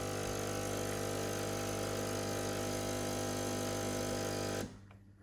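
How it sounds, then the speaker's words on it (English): A Nespresso machine brews an espresso shot from a Hawaii Kona pod, a loud steady pump buzz and hum that cuts off abruptly near the end. "Pour an espresso shot, give it a taste."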